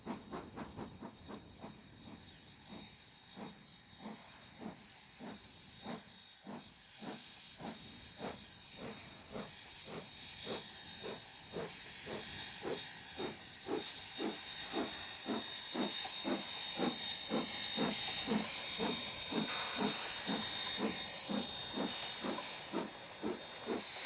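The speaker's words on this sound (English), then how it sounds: "Steam trains were running on the Waiau branch line right up till 1968" A steam locomotive on New Zealand's Waiau branch line chuffs steadily in a long, even rhythm that gradually grows louder and faster, with a continuous hiss of steam beneath.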